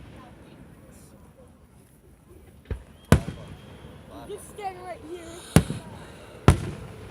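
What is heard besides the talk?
July 4th fireworks exploding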